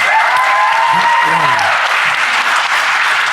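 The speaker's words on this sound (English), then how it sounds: "Can we get a round of applause for our panelists?" A crowd at a San Diego Comic-Con 2023 panel applauds the panelists. Loud, sustained, even applause fills the whole stretch while a voice speaks briefly over it.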